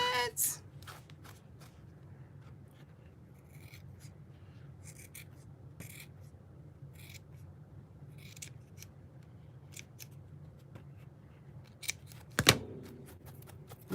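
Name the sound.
cutting a craft gnome tag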